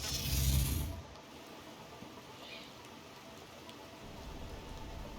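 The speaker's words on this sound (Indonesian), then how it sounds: "Oke, hujan." Steady rain in the survival game Planet Crafter falls as a constant broadband hiss for the whole stretch, a bit louder at the start, with no talking over it.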